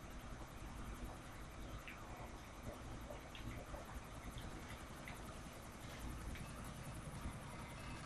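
A helicopter in the video game GTA IV gives a constant loud rotor drone and engine hum, with faint game noises mixed in and no talk over it.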